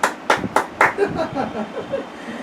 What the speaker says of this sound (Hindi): ताली आपके लिए